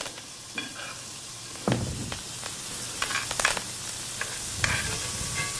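Butter sizzles and spatters in a hot frying pan while being spooned over the top of a cooking piece of meat, a steady close fry with scraping and clinking of the spoon against the pan.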